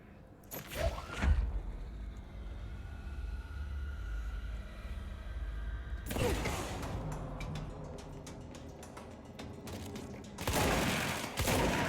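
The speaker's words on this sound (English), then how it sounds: "Okay, so it's a shotgun." A shotgun fires in the video game Control: sharp, loud blasts at about one second, six seconds and near the end, each followed by scattered crackling debris over a low ambient hum.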